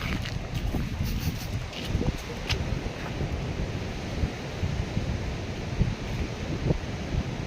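Steady wind gusts buffet the microphone on Karangtawulan tourist beach, a constant rough rumble filling the whole stretch with no clear pauses and no talk.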